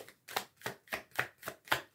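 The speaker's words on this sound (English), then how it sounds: "Hopefully we don't shuffle for 4 minutes." Tarot cards shuffled by hand in a fast, regular rhythm, about seven crisp riffling bursts evenly spaced over two seconds, close and fairly quiet with no talking.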